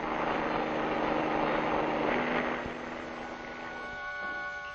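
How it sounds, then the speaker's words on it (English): Steady whirring rotor and engine drone of a traffic-reporting helicopter overhead, loud and continuous, easing slightly toward the end. "Reporters in helicopters get a bird's eye view of traffic conditions"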